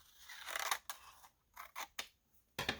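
Scissors snip and slice through paper near a fold while making pockets from leftover paper, a few close, crisp cuts in short bursts separated by pauses.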